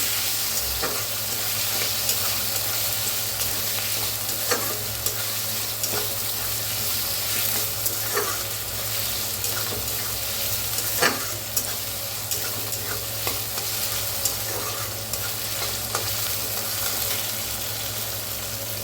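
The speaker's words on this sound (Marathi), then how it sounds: "टमाटरला मी छान असं भाजूया" Chopped tomatoes frying with browned onion in a pan for a brinjal and potato curry, giving a steady close sizzle broken by scraping stirs, with no voices.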